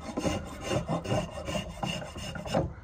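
Varnish being stripped from a Harbor Freight hammer's wooden handle on a workbench: a steady, close rasping rub in repeated back-and-forth strokes, roughly four or five passes, alone without talk.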